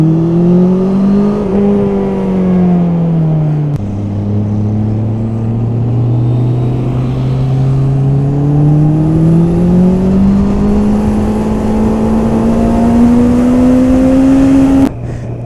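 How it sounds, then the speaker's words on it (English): A 2021 Honda CB650R motorcycle laps a race track, its engine drone rising and falling steadily in pitch through gear changes, loud and close throughout with no talk. "this was the nicest lap with the 650R, because this is actually the bike for this racing track"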